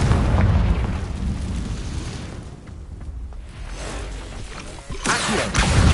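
A Confringo fire spell in Hogwarts Legacy bursts in loud booming explosions, heavy at the start, dipping, then a fresh sharp blast with whooshing near the end, no clear voices.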